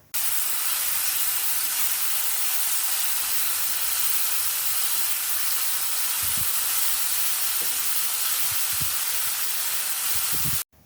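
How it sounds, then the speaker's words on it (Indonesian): Ground spice paste for nasi goreng sautés in a hot wok, giving a loud, continuous broadband sizzle and hiss that holds steady throughout, with a few soft utensil knocks near the end before it cuts off. "Tumis bumbu yang sudah dihaluskan, ditumis, digonsreng-gonsreng sampai bumbu benar-benar matang"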